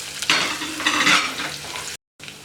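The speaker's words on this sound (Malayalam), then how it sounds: "ഇഞ്ചിയും വെളുത്തുള്ളിയും ചേർത്ത് നന്നായിട്ട് വഴറ്റി കൊടുക്കാം." Crushed ginger and garlic fry in hot oil for a Kerala prawn roast, giving a steady close sizzle with stirring scrapes, then a brief cut to silence before the sizzle returns.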